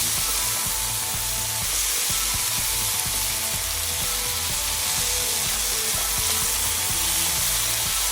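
Sesame beef and onion stir-fry sizzles loudly and continuously in a pan, a dense close hiss with faint rhythmic scraping underneath as the pieces are pushed around.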